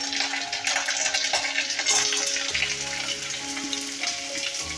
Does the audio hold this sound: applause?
no